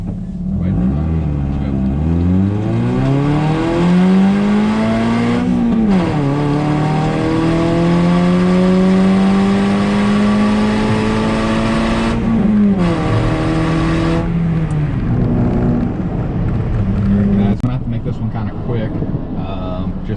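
A Toyota Yaris with a reflashed ECU and raised redline accelerates hard up an entrance ramp, its engine note climbing steadily through long pulls, dipping briefly at shifts, loud and close from inside the cabin.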